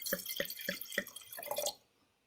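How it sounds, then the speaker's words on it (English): Quartz Reef single-vineyard Pinot Noir from Central Otago, New Zealand, is poured into a glass: four evenly spaced gurgling glugs, then a short liquid splash that fades to silence. The sound is close and fairly quiet. "and pouring this wine"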